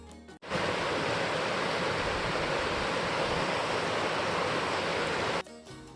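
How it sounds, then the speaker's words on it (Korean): A loud, continuous rush of a stream flowing through a canyon on a trekking trail, broad and roaring, starting abruptly and cutting off near the end. "걷는 내내 우렁찬 물소리를 들을 수 있다는 점이 제일 좋았어요"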